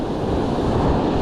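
Rough ocean surf under red flag conditions during beach fishing, a continuous loud roar of breaking waves mixed with heavy wind noise buffeting the microphone.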